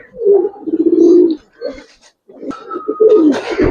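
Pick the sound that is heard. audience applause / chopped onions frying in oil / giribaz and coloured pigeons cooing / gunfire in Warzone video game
giribaz and coloured pigeons cooing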